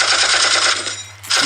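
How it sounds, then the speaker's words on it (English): A sustained machine-gun-like burst of rapid gunfire as a sound effect, loud and continuous, dipping briefly before a fresh burst starts again. "Okay, there's gunshots. Such a long gunshot."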